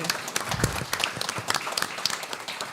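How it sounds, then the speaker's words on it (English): Audience applause for a panel moderator at an evening pro-life event, a brief burst of many hands clapping with crisp irregular smacks, fairly close and filling the room. "So you can give him a round of applause."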